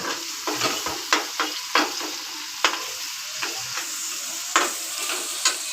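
Tomatoes with salt sizzle steadily in a frying pan while a spoon stirs them, making repeated scraping clicks against the metal over the continuous hiss.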